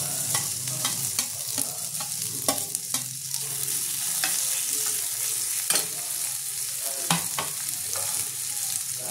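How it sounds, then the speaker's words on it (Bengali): Chopped tomatoes fry in a pan for Bengali-style egg shakshuka, a steady close sizzle broken by repeated spatula scrapes and stirring clatter against the pan. "এবার এর মধ্যে আমি টমেটো কুচিটা দিয়ে দেবো।"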